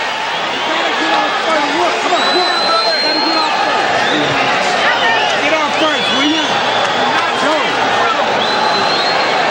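A large arena crowd at a 1996 boxing match between Julio Cesar Chavez and Joey Gamache, a steady murmur and roar filling the hall under a commentator's continuous talk.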